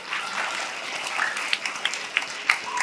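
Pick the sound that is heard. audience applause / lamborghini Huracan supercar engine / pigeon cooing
audience applause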